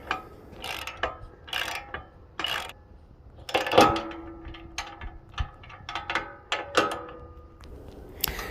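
A 1/2 socket and 1/2 wrench ratchet a bolt tight while installing a double bagger on a 50-inch Cub Cadet ZT1 zero-turn mower: close, brisk bursts of metallic clicking separated by short pauses, with no talking.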